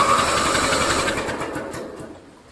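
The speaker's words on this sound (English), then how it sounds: "We'll just keep turning it over for a while until we get some fuel to that line." Starter cranking over the engine of an old Scotts 1742S lawn tractor, a steady rapid mechanical churning that runs loud and continuous, then eases off slightly toward the end.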